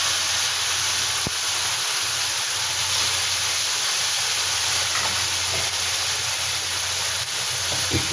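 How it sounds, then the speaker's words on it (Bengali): Whole cumin and spice paste sizzle in a hot wok, a loud, steady hiss of frying oil that runs unbroken throughout with no talking. "কড়ায় ওই জিরে দিলাম, গোটা জিরে দিলাম, আর ওই পেস্টটা ফেলে দিলাম।"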